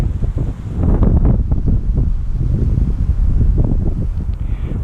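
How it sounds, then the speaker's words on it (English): Strong gusting wind buffets the microphone at a trout fishery on a summer fly fishing day, giving a loud, continuous low roar with rough rushes and no voices. "Yes, it's a windy day today."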